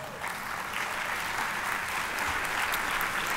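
Audience applause at a Bioneers talk on Project Drawdown, a steady broadband wash of many hands clapping that holds at an even, fairly loud level for the whole stretch with no voices.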